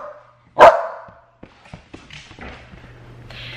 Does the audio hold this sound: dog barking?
yes